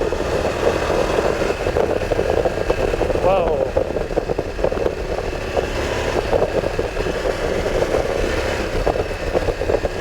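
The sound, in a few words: VOGE 900 DSX motorcycle engine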